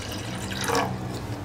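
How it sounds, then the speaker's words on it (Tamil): Water pours into a cooking pot for sweet sago payasam, about 200 millilitres in a short, steady, close splash. "ஒரு 200 மில்லி தண்ணி விட்டுக்கலாம்."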